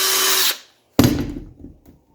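A burr bit grinds out the bore of a driveshaft U-joint yoke, giving a loud high whine that cuts off halfway through, then a second harsh burst that fades away.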